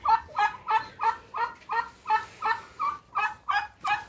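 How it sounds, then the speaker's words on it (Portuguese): A turkey gobbles in a backyard poultry yard, about a dozen quick rhythmic gobbling calls in steady succession, moderately close and alone. "E o peru tá aqui."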